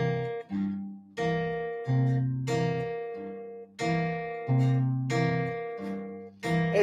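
Open strings of a guitar fingerpicked in a steady pattern, thumb on the fifth string, then fourth and third, then down to the sixth, each note ringing clearly and close with no talking.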